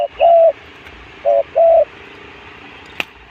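A dove coos close by: a short phrase of soft, hollow hoots, a pause, then two more, with a faint click near the end.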